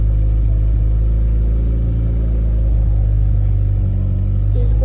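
A Mitsubishi 4G15 turbo engine idles under Speeduino idle-air control, a steady loud low rumble with a slight rise in pitch as the revs climb, no voices.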